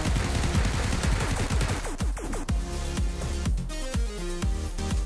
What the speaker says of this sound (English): Next up is the submachine gun UMP9.